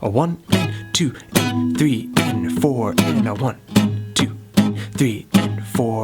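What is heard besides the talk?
No everyday noises stand out.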